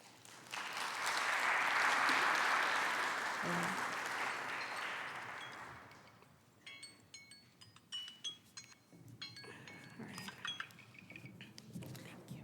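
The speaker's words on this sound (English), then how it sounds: "A round of applause." Audience applause for panelists at an African agricultural investment conference, a dense wash of clapping that swells and fades over several seconds, followed by scattered clinks of glass and cutlery in the quieter room.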